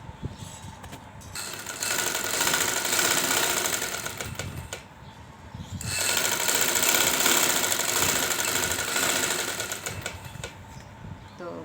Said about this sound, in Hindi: अब उसके बाद में हमने इसके ऊपर ही सिलाई लगाते जाना है